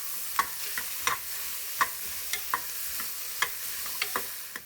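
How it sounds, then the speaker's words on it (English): Onions saute in oil in a pan for a curry masala, with a soft continuous sizzle under irregular spoon stirs and scrapes at moderate volume, close by and with no voices. "Saute these onions until they are wilted"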